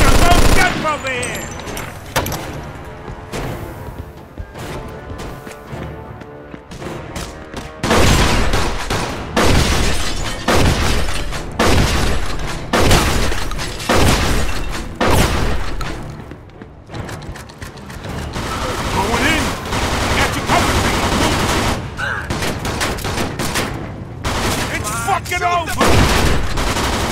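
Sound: gunfire in Mafia 2 video game

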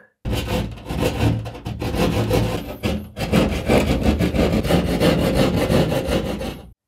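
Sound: hand saw cutting drywall

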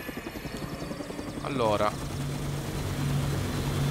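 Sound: helicopter taking off in Toy Soldiers video game

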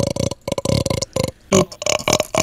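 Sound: burp

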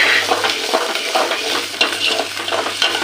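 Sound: green turkey berry curry ingredients sautéing in a pan

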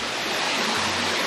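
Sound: mountain valley stream flowing near waterfall

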